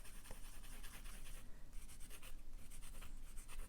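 A fountain pen with a medium nib, inked with Vinta ink, scratches continuously across paper, faint and close with soft strokes and no voices.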